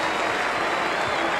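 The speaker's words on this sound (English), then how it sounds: "Martin Crowe getting a big hand from the Basin Reserve crowd" A cricket crowd at the Basin Reserve in Wellington applauds warmly during a World Cup match, a dense, steady clapping that fills the whole moment.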